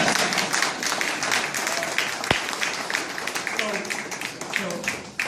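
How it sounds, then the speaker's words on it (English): Round of applause from an audience at a signing ceremony, a steady wash of clapping lasting several seconds with a voice heard over it. "can we get a round of applause for that?"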